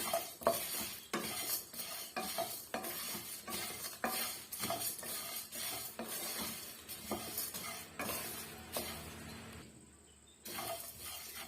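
Spices dry roasting in a pan for a masala blend, a utensil scraping and stirring in steady strokes with dry rattling clinks and a faint sizzle, close up, briefly dropping quiet near the end.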